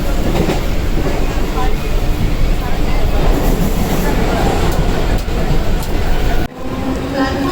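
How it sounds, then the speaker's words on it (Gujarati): A crowded Mumbai local train rolls along with a loud, continuous rumble and rattling wheels, close and enveloping, with faint voices in the carriage and a brief dip near the end. "લોકલ ટ્રેનની મુસાફરી."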